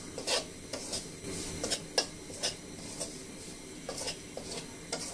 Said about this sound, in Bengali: এটা একদম ব্রাউন করে ভাজবো, তাহলে সুজির কালারটা সুন্দর আসে